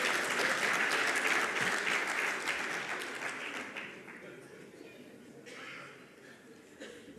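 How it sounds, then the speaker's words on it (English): Audience at a Namibian public-private business forum applauds steadily, the clapping dense and full at first, then thinning and fading toward the end. "Just give a round of applause to Mekonjo"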